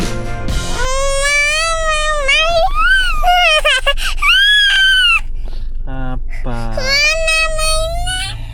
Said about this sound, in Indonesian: gak usah teriak-teriak gitu ya